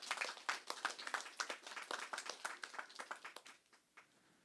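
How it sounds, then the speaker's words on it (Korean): A church congregation applauds, a run of distinct claps that starts moderately strong and gradually thins and fades out by the end. "하나님께 영광의 박수 올려드립시다."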